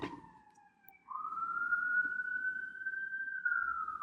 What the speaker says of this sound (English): they send out an ambulance to ruin your goddamn flow